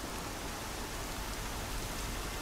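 Steady, dense rain hiss from the video game Horizon Zero Dawn fills the whole stretch at a moderate level, with no voices and no breaks.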